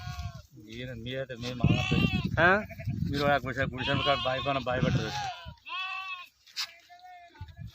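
Sheep bleat repeatedly and loudly nearby, wavering cries overlapping one another with brief pauses between calls.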